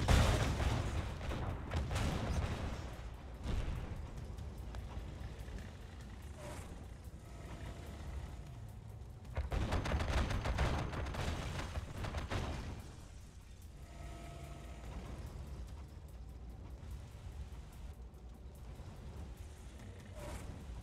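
A tank battle in the real-time strategy game Yuri's Revenge, with a steady stream of gunfire and explosions, dense and rumbling, swelling in heavier bursts, mixed with faint talk.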